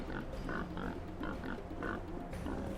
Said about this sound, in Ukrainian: Ніфіга собі свині, які класні